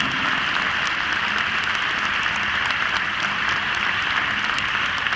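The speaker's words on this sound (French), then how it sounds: "un tonnerre d'applaudissements pour le cavalier irlandais Richard Hawley et Mancini." Sustained, dense applause from a large audience honoring the Irish rider who won an international CSI5* show jumping class at Bordeaux, steady and loud throughout without a break.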